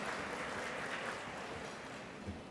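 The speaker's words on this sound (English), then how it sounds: "so applaud yourself" A luncheon audience of several hundred people applauds steadily, a dense even wash of many hands clapping together at a moderate distance with no voices standing out.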